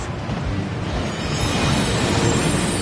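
A rushing waterfall in the Hogwarts Legacy video game pours over the vault cart in a steady, loud broadband roar that swells slightly toward the end, with no voices.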